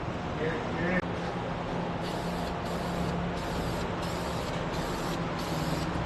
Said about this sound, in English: I'm gonna have Tater take a couple shots of me spraying it up.